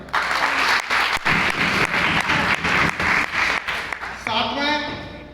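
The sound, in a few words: applause for hotel staff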